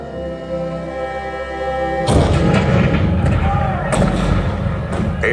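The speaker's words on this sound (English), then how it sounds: "1861, Fort Sumter. The cannons spoke for war." Cannon fire rings out as a sound effect in Disneyland's Great Moments with Mr. Lincoln show, depicting Fort Sumter: a low musical tone gives way to heavy rumbling booms, with several sharp blasts rolling over one another.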